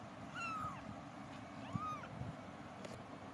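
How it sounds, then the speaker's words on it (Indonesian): A kitten meows a few times indoors, short rising-and-falling cries standing out clearly over a faint steady background hum, with a small knock partway through. "Apa kata nama kucing Koko?"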